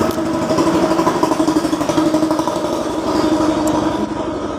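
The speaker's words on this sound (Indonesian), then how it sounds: "Mohon maaf ada suara itu motor lewat." A motorcycle engine runs loud and close throughout, its steady mid-range drone and rhythmic pulsing suggesting a bike passing nearby, with no talk over it.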